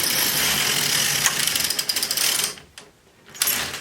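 An LK150 knitting machine carriage is pushed across to knit a row, a steady loud mechanical whirring and clicking that drops away briefly near the end before resuming.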